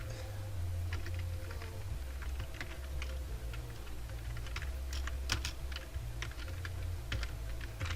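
Someone types on a computer keyboard at steady speed, with a continuous patter of light key clicks and occasional sharper taps over a low background hum. No speech.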